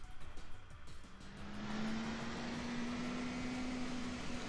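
A car sound effect in the visual novel DRAMAtical Murder, an engine rising into a steady sustained drone with a held tone, like a vehicle approaching and passing close.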